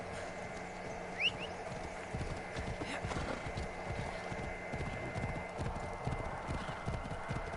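Rhythmic hoofbeats of a galloping horse with a brief whinny in Assassin's Creed Odyssey, set against a steady game soundtrack and ambient hum.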